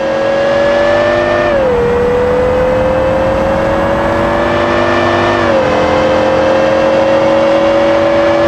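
Aston Martin engine in a driving video game, revving loud and steady with a sustained tonal drone that dips in pitch twice as gears shift, running close and alone with no voices.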